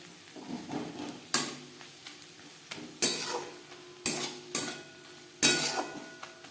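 A metal spatula scrapes and knocks around a pan of Bengali fish oil curry with spring onion, giving sharp intermittent clanks roughly every second over a faint sizzle, close and loud, with no voices.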